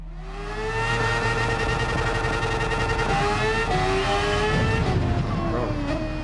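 A Formula 1 V8 engine in a video game revs loudly and continuously, its pitch rising and shifting through gear changes, with excited talk heard over the engine.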